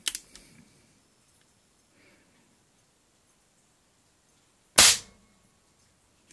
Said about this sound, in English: Don't want to speed up my shooting too much, or the temperature, the gun will cool down too much and lose pressure.